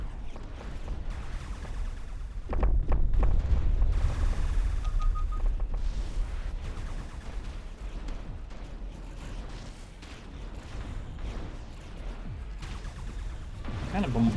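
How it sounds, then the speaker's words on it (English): Fleet bombarding a planet in the space strategy game Distant Worlds 2, a steady barrage of booming impacts and rumbling blasts, heavier for a stretch then continuing at a lower level. "Kind of bombarding this planet now."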